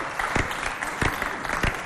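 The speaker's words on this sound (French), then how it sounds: "On applaudit encore très très fort pour lui" Studio audience on a Chadian television variety show clapping in a brief, dense burst, with a few sharper claps standing out at a regular pace and no one speaking.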